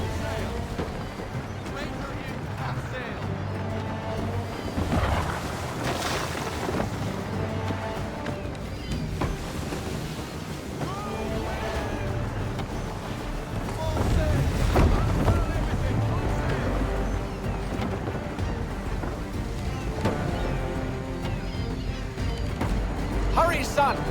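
A sailing ship cuts through the sea in Assassin's Creed III Remastered, with steady rushing water and wind gusts throughout and voices talking over the constant wash.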